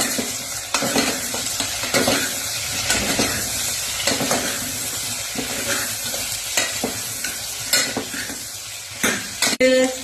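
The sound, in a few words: whole spices frying and being stirred in oil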